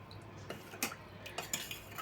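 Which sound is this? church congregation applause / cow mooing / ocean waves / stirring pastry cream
stirring pastry cream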